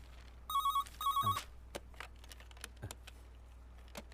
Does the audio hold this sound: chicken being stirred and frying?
no